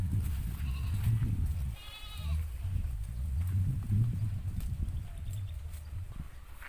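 Farm goats let out a short bleat amid a noisy outdoor barnyard, with people talking and shuffling, low rumbling background throughout.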